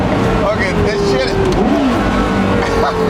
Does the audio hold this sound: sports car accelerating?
yes